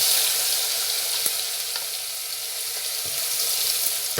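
Garlic browning in hot oil gives an even, moderate sizzle with a steady hiss throughout and a few faint clicks from a utensil against the pan.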